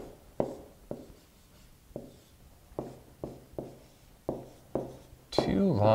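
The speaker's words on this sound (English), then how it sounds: "So let's write that down." Marker writing on a board during a geometry lesson, with a series of sharp taps and short strokes at an uneven pace, close and clear, ending in a louder squeaky scribble.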